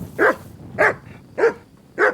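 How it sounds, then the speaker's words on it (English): A dog in the video game Kingdom Come: Deliverance 2 barks four times in an even rhythm, each bark short, clear and close, with quiet gaps between. "Oh, you're not barking at him. I don't know what you're barking at."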